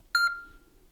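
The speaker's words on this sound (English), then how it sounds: "I added a beeping sound. On the 4th beep would be when to interact with the phone." One short, clear electronic beep with a high ringing tone, quickly fading into quiet.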